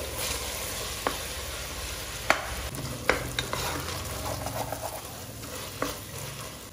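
Mutton pieces frying in hot oil, added along with a little fat, produce a loud, continuous sizzle, broken by occasional sharp clacks of a spoon stirring the pan.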